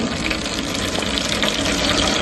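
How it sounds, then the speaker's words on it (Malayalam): Water pumped by a motor pours steadily into a water tank, making a continuous, even splashing rush up close with no talking. "ഇവിടെ നമ്മളെ ടാങ്കിലേക്ക് വെള്ളം വന്നുകൊണ്ടിരിക്കുന്നത് നിങ്ങൾക്ക് കാണാൻ കഴിയുന്നുണ്ടാകും"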